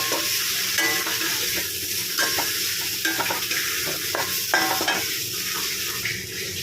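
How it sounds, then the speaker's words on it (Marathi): Red masala fries in a pan for an okra (bhendi) dish, a constant sizzle under repeated scraping strokes of a spoon stirring the spice mix, close and loud with no talking. "लाल मसाला घेणार आहोत तो थोडासा टाकून घेणार आहोत, तो मिक्स करून घेणार आहोत"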